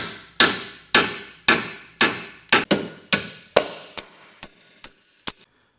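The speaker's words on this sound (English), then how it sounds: "as far as hammering this in to get our clearances, we're just going to try to get about 1/8 inch or so" Hammer strikes on a steel base plate bracket of a 2024 Chevrolet Equinox, a dozen sharp metallic blows at an irregular, quickening pace, close and loud with ringing decays and no speech.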